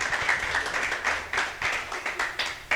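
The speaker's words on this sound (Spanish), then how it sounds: "Un aplauso para José" Applause from a church congregation during a service, a modest patter of clapping from a smaller group with uneven bursts and faint voices underneath.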